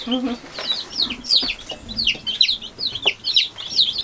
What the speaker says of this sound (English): Are they baby chickens?